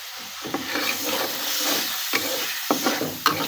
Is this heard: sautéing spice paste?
yes